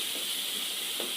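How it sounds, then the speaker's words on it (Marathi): Onions frying in a pan with turmeric for a spicy mutton curry give off a steady, even hiss and sizzle that holds at moderate loudness throughout, with no voices over it. "आता आपले कांदे छान फ्राय झाले, याच्यात आपण थोडीशी हळद टाकून घेऊ।"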